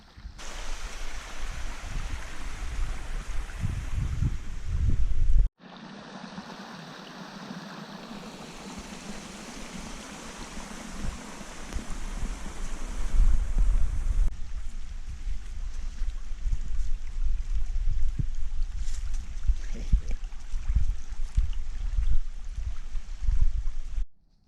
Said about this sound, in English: we've really got some water coming down now